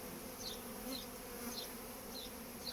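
Honeybee drones drone steadily in a continuous buzzing hum inside a hive, with wingbeat whines passing at regular intervals, close by and fairly quiet.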